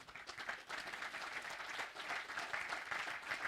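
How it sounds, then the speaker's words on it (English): An audience at a morning forum session gives the panelists a round of applause, a thick, continuous wash of many hands clapping, steady and somewhat distant, for about three and a half seconds. "A big round of applause to the panelists,"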